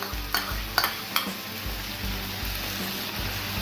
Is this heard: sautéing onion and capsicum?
yes